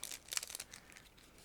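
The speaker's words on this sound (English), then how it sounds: "So I'm going to cut through the plastic bag and we will take a closer look together" A plastic bag holding a 1/72 scale model kit of a Cromwell recovery vehicle is cut open, giving a short burst of faint, close crinkling and rustling plastic with no voices.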